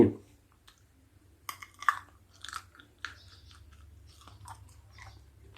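Sour wild jujube fruit picked by the roadside is bitten and chewed close up, with crisp crunches and wet clicks in a quiet setting.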